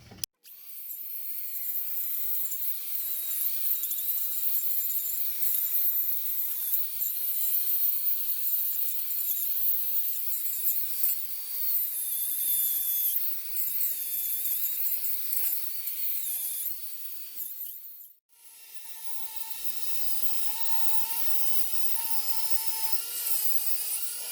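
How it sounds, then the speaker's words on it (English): Power tool unscrewing a brake caliper bolt, a steady high whine running for about eighteen seconds, then a brief stop before it whirs again, close by without talk. "We're just unscrewing this, and then the caliper will fall right off"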